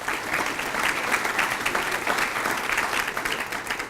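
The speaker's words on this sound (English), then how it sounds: "Please give these groups a round of applause." Applause from an audience at a city's State of the City address, a steady dense wash of clapping that holds evenly for several seconds with no voices over it.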